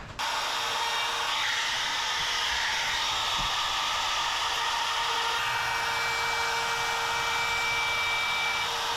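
Power saw cutting a large oval hole through the wooden floor (sole) of a liveaboard wooden boat, a steady continuous high whine and buzz running the whole time, close and loud with no talking.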